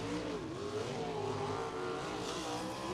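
A sprint car on the dirt oval at Lincoln Park Speedway during USAC Indiana Sprint Week, its engine revving hard as it accelerates onto the front straightaway, a loud, continuous roar with rising pitch and no talk.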